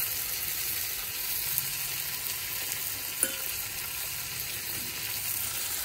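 Fish frying in a curry of potato and eggplant, a steady soft sizzle that runs without a break, with one faint clink partway through.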